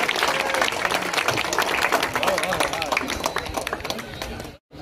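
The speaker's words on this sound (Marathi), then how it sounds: "जोरदार टाळ्या वाजवा" Applause for Mithila madam from the crowd at a memorial trophy event in Malvan, a loud dense clapping with voices mixed in, fading slightly before a brief cut near the end.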